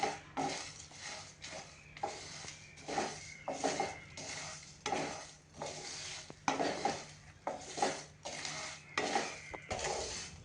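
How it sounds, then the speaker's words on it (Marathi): Dry spices with poppy seed powder and kasuri methi being roasted in a pan over medium heat, with repeated scraping and stirring strokes of a utensil against the pan in a steady rhythm, close and fairly quiet, no talking. "आता हे सगळं साहित्य आपण मीडियम आचेवरती छान भाजून घेणार आहोत."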